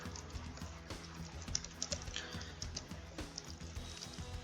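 Typing Java code on a computer keyboard, with a quiet run of rapid key clicks and small pauses, close up.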